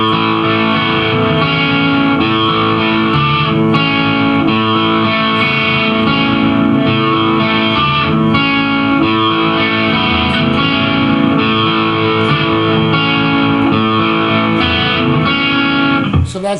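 Electric guitar playing a riff, loud and steady with distortion and effects, chords ringing continuously for over sixteen seconds with no talk.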